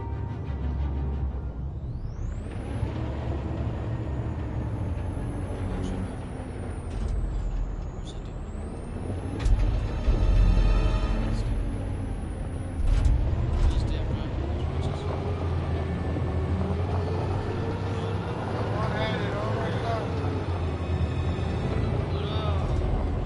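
A truck engine runs in Detroit: Become Human, a steady low rumble with rising and falling revving under game music and background effects.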